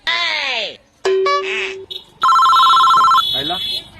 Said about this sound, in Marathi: आयला या टायमाला फोन कोणाचा आला